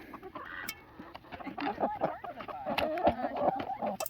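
Chickens clucking in a backyard flock while pecking at black soldier fly larvae, a steady run of nearby clucks and short calls with faint human talk underneath.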